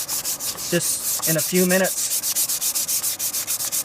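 Sandpaper rubbed briskly by hand along a wooden axe handle, a steady run of close, rhythmic scraping strokes, with someone speaking briefly early on.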